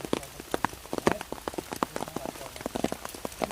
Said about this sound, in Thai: ฝนตกแห้งค่ะ